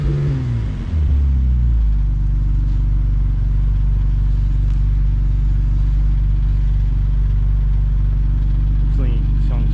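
An Infiniti G37 with a built VQ engine gives a brief rev at the start, then settles into a steady, loud, deep idle rumble close by, with a voice talking over it.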